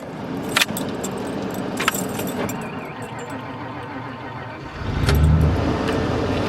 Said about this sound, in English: Let's see if we can fire up the truck.